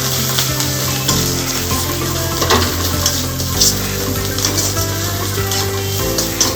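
Masala for doi katla frying in a pan on a gas stove while being stirred, a loud, close, continuous sizzle with scraping strokes of the spoon and occasional clinks against the pan.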